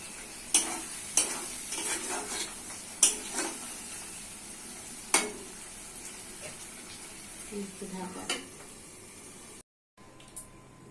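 Onions fried in a pan with garam masala stirred in, a steady broadband sizzle broken by sharp scraping stir strokes and clinks, a short dropout near the end.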